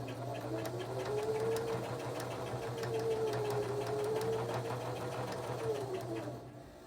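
A sewing machine runs steadily for several seconds, its motor whirring with a fast rhythmic clatter as it stitches fabric, then winds down and stops near the end.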